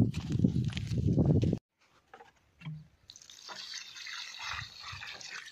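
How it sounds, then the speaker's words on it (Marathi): Water poured from a kettle onto the base of a champa tree on a farm, a splashing, trickling pour that begins after a brief gap and continues steadily to the end. A few footsteps and a faint thud come before it. "पण पलीकडचे एका चाफ्याला घालते पाणी"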